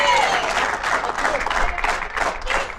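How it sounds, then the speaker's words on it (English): A crowd applauds the player of the tournament at a women's T20 cricket championship final, with steady, dense clapping and some crowd noise throughout. "A big round of applause there for Tirtha Satish, the player of the tournament."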